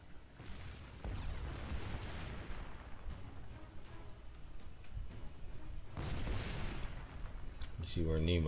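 Naval gun salvos from low-tier warships in World of Warships, two heavy booming volleys a few seconds apart that roll out into long rumbling tails over constant sea and engine ambience.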